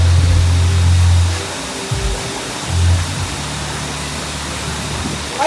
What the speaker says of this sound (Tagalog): makikita po natin yung tubig dito na dumadaan